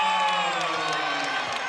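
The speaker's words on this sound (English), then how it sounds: "This crowd starting to come alive for Virginia" A home crowd at a women's college basketball game cheers for Virginia, a loud sustained roar of voices and whoops filling the arena, with commentary voices mixed in.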